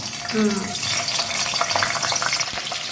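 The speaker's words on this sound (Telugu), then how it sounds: "ఇప్పుడు ఫిష్కి కావలసినంత తగినంత ఆయిల్ తీసుకున్నానండి వేడవుతుంది ఇందులో ఒక రెండు మూడు పచ్చిమిర్చి" Two or three green chillies fry in hot oil heated for a fish gravy, giving a steady broadband sizzle and crackle with a few brief tonal clinks near the start.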